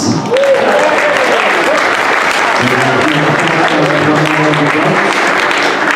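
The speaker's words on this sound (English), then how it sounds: "And for Hobbit Eagle, a massive round of applause, Lucas Whitcroft White." A big burst of applause from a crowd at a tabletop wargaming event's awards, loud and steady throughout, with a voice carrying over the clapping at the start.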